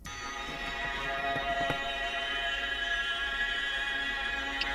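A cello bowed sul ponticello, close to the bridge, giving a glassy, overtone-rich sustained tone that holds steadily for several seconds with a faint pluck-like accent partway through.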